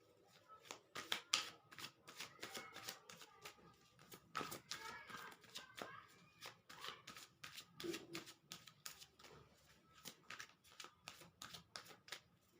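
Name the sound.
tarot cards being drawn out and handled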